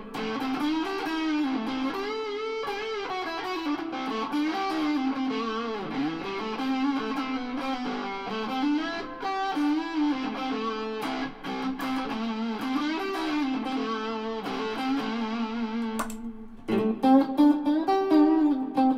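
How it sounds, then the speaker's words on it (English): Electric guitar through a Rat distortion pedal with no reverb, playing a continuous, dry, gritty riff with sustained distorted chords and melodic bends, loud and alone. "Rat in as well, just to see what it sounds like with distortion on"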